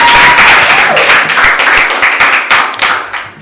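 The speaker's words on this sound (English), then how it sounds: "A round of applause for yourself, please." An audience gives itself a round of applause, with loud, close clapping from a modest crowd, uneven and textured, with a voice briefly audible underneath.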